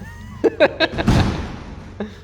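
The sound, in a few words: door being closed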